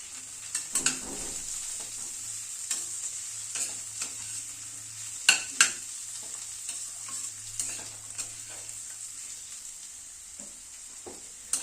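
Spinach, beans and winter vegetables sizzle softly in a pan while a spoon scrapes and stirs them, giving a few sharper clinks against a steady quiet frying hiss.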